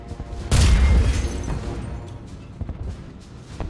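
A bomb explodes in Mass Effect 3: one loud, deep boom hits suddenly and rumbles, then fades into a fainter, crackling tail with scattered smaller pops.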